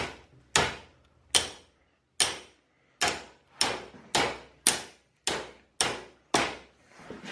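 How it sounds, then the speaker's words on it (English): A hammer strikes a bent dirt bike brake lever part about ten times, sharp metallic blows spaced at a steady, slightly quickening rhythm, each ringing briefly and decaying before the next, close and loud with no talking. "All you gotta do is take your hammer right here."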